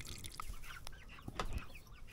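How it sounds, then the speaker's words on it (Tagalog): Rhode Island Red chickens brought from Tuguegarao, Cagayan, clucking close by with short scattered calls and one brief higher squawk over soft farmyard background noise. "Ito na yung mga Rhode Island Red na kinuha ko sa Tuguegarao, Cagayan guys."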